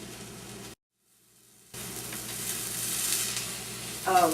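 Chicken browns in a hot pan and sizzles steadily up close. The sizzling cuts out for about a second and then returns louder, with a small clatter near the end.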